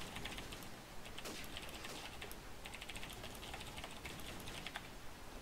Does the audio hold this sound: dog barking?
no